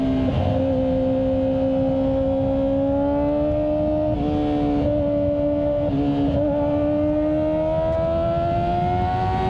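A Kawasaki ZX4 motorcycle engine, freshly changed to Motul oil, runs on the road with a steady high, smooth drone that shifts slightly in pitch with a few brief throttle changes, loud and continuous throughout.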